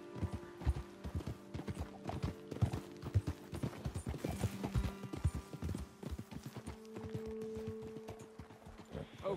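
Horses clip-clopping in Red Dead Redemption 2: dense, close hoofbeats from several horses in a steady walking rhythm, with faint creaks of tack, a brief low tone, and no talk over them.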